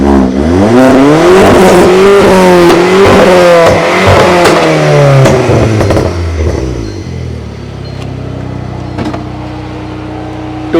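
A modified, tuned Volkswagen Polo hatchback engine revs hard and repeatedly, pitch rising and falling in loud bursts, then settles into a lower, rumbling idle.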